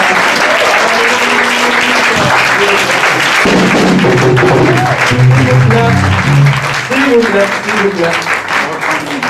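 A church congregation applauding loudly, sustained clapping under music and voices, with singing and talk continuing over the claps throughout.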